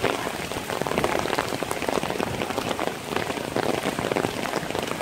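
Heavy rain pours steadily onto a Saigon street where street vendors shelter under umbrellas, a dense, continuous close hiss and patter with no pauses and no voices.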